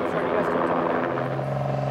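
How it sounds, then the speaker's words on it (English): A helicopter flies low over the ground at an airport, its rotor and engine making a steady, loud, close drone that holds unchanging throughout. "The sequence with the helicopter was filmed at an airport, with the helicopter flying close to the ground"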